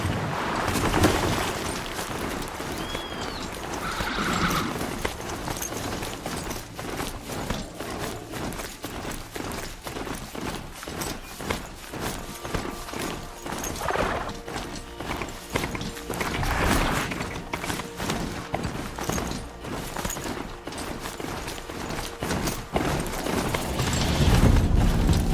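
Steady rhythmic clopping footfalls of an overridden machine mount being ridden in the video game Horizon Zero Dawn, continuous galloping beats with mechanical undertones throughout.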